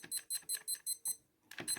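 Incubator temperature controller emitting a run of short electronic beeps, six evenly spaced pips, a brief pause, then more beeping, close and fairly quiet.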